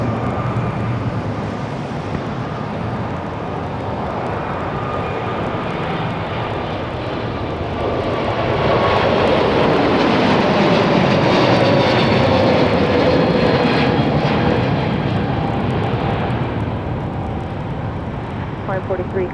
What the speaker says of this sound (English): Hawaiian Airlines down the runway.